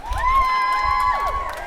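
Outdoor crowd at a Pride festival cheers and whoops, close and loud, with sustained shouts over a low rumble of noise and no clapping standing out clearly.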